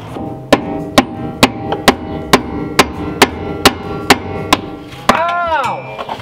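Sharp metal-on-metal hammer blows strike a vehicle axle, about a dozen evenly spaced hits ringing close and loud, then a longer resonant clang trailing off at the end.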